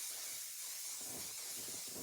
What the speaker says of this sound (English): I'm gonna spray this up a little.